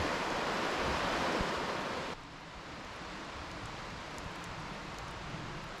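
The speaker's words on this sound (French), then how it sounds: "Et ça, c'est la rivière Jacques-Cartier." Jacques-Cartier river flowing about thirty feet from a chalet in wooded, isolated country, a steady broadband rush of water that drops slightly in level partway through and continues alone with no talk.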